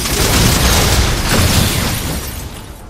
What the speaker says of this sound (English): That's a lot of grenades and shit.